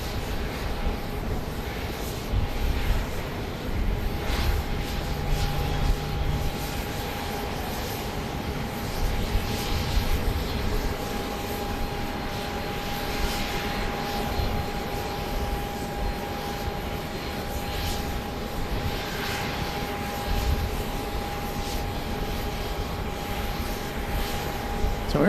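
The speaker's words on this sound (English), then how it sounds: "This plane has just touched down from Salt Lake City, Utah. It's an AirShare Embraer Phenom" An Embraer Phenom 300 business jet rolling out after landing at Dallas Love Field at night: a continuous, moderately loud engine whine with a steady tone and airport rumble, no talk during it.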